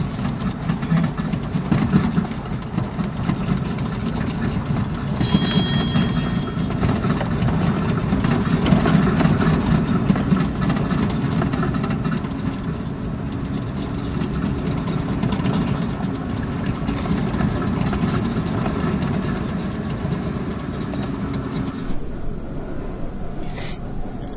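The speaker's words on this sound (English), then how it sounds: "once again, engine slow ahead, just for a short time." A steady engine hum from a ship's engine held at slow ahead in Microsoft Flight Simulator 2020, running evenly at a low drone for the whole stretch with no talk.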